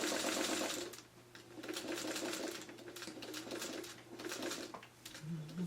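A sewing machine stitching a quilt block in quick steady bursts, pausing between runs of stitches, close by, with a soft bird-like coo at the end.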